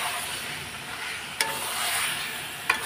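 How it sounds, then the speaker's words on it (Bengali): Yogurt-marinated chicken pieces stirred in a frying pan, giving a steady broad sizzle with two sharp utensil scrapes against the pan, close and alone. "এখন আমি নেড়ে নেব"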